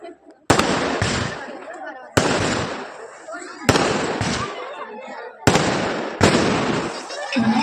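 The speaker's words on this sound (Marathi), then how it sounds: "फटाके फुटताय बॉम्ब फुटते" Loud firecrackers and fireworks burst at New Year in four separate volleys, each a sharp bang followed by crackling that trails off, close by.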